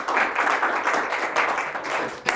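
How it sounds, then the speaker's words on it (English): A conference audience applauds the AV team at a PostgreSQL developer event: a short, dense burst of steady clapping that ends with a final sharp clap. "Round of applause for Chris and all the AV team."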